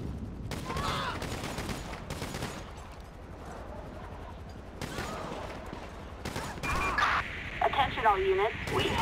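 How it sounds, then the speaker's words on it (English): Gunfire in Grand Theft Auto V, several bursts of shots at moderate distance with quieter game sounds and radio chatter between them. "Where are they shooting from?"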